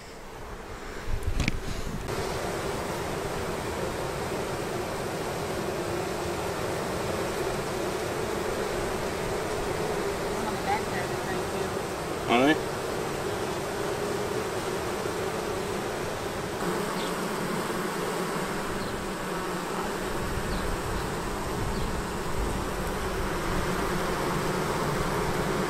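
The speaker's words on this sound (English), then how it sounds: "And we slowed down, and it's bees." Swarm of honey bees buzzing steadily and loudly up close as they enter a swarm trap in a yard, a dense continuous drone that holds for the whole stretch with small swells.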